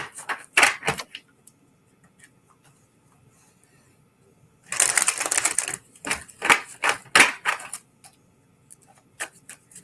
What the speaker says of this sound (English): I'm going to pull a couple of extra cards here for you, Tori.